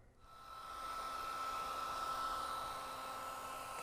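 A handheld hair dryer switches on and blows with a steady whooshing airflow and faint motor whine, close by and continuous, with no talking.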